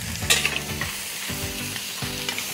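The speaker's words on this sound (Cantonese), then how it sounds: "將嗰個羊肉咧炒香佢，跟住咧我哋放幾片薑落去一齊炒" Lamb being stir-fried with ginger slices in a hot pan, a steady loud sizzle broken by three or four scraping stirs of the spatula against the pan, with no voices.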